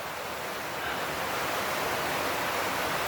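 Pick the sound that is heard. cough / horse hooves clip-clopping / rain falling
rain falling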